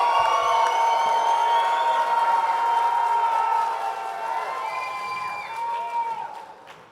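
Audience at a fight club event cheering and whooping for a fighter, loud and sustained, with high shouts layered over the crowd, easing somewhat midway and then fading out at the end.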